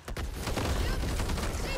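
Several players fire together at one target in Back 4 Blood, a rapid, continuous volley of gunfire lasting a couple of seconds, loud and crowded with overlapping shots.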